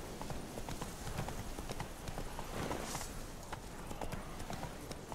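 Roach, a horse in The Witcher 3, trots along with steady, repeated clip-clopping hooves, the rhythmic footfalls continuing quietly throughout with faint ambient noise beneath.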